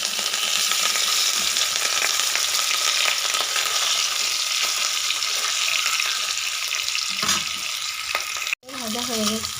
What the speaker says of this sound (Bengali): বাকি মাছগুলো আমি একই রকমভাবে ভেজে নেব